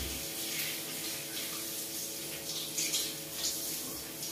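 Shower water runs steadily during washing, a continuous hissing spray under a low hum, fairly close and even, with no talk over it.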